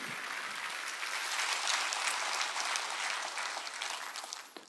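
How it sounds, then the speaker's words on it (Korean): Church congregation at a Sunday worship service breaking into applause, a broad, steady roar of many hands clapping together that swells and then tapers off toward the end, with no speech over it. "박수로 하나님께 박수를 치라."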